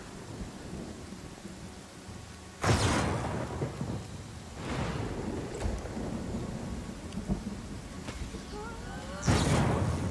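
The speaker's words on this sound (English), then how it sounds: "I assume that lightning is just decorative." Thunderstorm in the Pathfinder: Kingmaker video game, with steady rain hiss under three loud thunder crashes, the first and last sharp and close, the middle one a softer rolling rumble.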